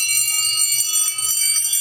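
A Hikvision conventional fire alarm bell rings loudly and steadily during a smoke-triggered alarm test, a continuous close metallic clangour with no pauses and no speech over it.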